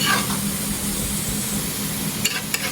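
Grated coconut fries in its own rendering oil in a pot, giving a steady, close sizzle and hiss with a few sharp crackles and spits near the end.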